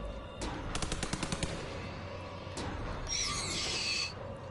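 Gunfire in a survival horror video game: a rapid burst of repeated shots, then single louder blasts, with an eerie high electronic tone swelling near the end; no speech.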